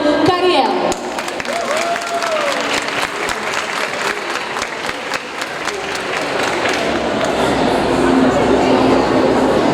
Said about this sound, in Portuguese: Recebam com muitos aplausos nossa super palestrante Milena Cariello.